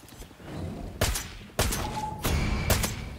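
Gunfire in the video game Far Cry 6 comes as several sharp, loud bursts in quick succession, each shot cracking up close with a short trailing rumble.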